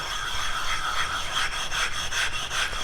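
A knife blade stroked repeatedly across a 15,000 grit Nano Hone sharpening stone, giving a steady rhythmic scraping rub, close and fairly loud, with no talk.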